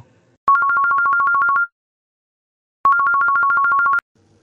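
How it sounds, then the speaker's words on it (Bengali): A mobile phone rings with two bursts of rapid, bright electronic trills separated by a short pause, loud and close in a quiet room. "মোবাইল ফোনটা বেজে উঠল"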